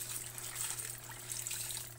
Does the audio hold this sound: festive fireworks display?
no